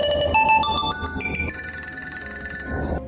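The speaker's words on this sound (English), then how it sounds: "Click Find and your laptop will immediately start ringing." An MSI Summit E14 laptop plays a bright, loud electronic ringtone, a quick melody of rising tones followed by a sustained two-note chime that rings out alone.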